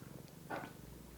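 A house cat purrs softly and close by in a brief, quiet stretch of rhythmic, rumbling pulses, ending in a short sharp noise.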